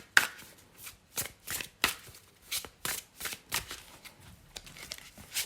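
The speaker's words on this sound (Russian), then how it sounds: "Выкладываю 3 карты" Tarot cards being laid out one after another, a quiet series of crisp, close slaps and swishes in an irregular rhythm, with no talking.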